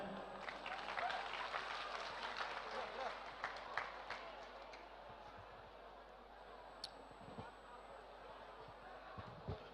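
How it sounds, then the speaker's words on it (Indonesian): Applause from an audience at a university lecture hall, a faint burst of clapping that builds in the first seconds and then thins into scattered claps, with a voice speaking over it. "Beri tepuk tangan."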